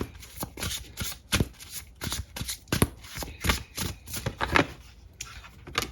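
Tarot cards being shuffled by hand, a close series of rapid riffling and slapping bursts repeating in an uneven rhythm, with no talk.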